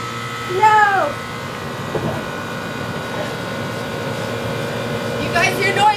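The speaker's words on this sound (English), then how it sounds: "You guys hear noise, just keep going. The air conditioner is gonna shut it off." An air conditioner in a home workout space drones with a constant, tonal mechanical hum, overlaid by a few brief squealing, whistle-like tones and some faint vocal sounds.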